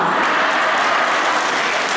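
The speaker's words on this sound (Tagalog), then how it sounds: "Ay palakpak na palakpak." Applause fills a church, a steady, dense clatter of many hands clapping close by and loud throughout, with no pauses.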